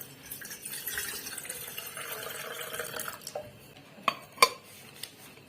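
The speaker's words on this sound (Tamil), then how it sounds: "தண்ணி சேர்த்துடலாம்" Water is added to rice flour for Kerala-style puttu. A soft trickle and light stirring sit at a quiet level, followed by a few bright clinks of a utensil against a metal vessel.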